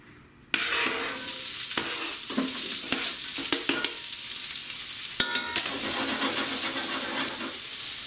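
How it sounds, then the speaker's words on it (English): Onions hit a hot pan with olive oil and burst into loud, steady sizzling, punctuated by occasional stirring clanks and scrapes. "I got a sizzling hot pan here. I'm gonna throw some onions in."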